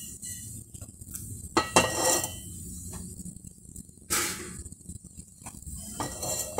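Metal cooking pot set down on a kitchen stove while making pesarattu curry, a few scattered clanks and clinks of cookware, fairly close and moderately loud over quiet room noise.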